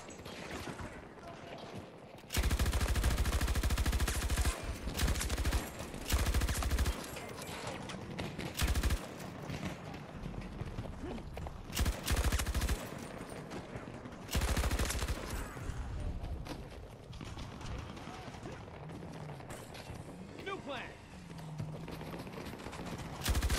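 RPT-31 light machine gun fire in Battlefield 2042, with repeated sustained bursts and short gaps between them, loud and close, while other battle noise runs in the background.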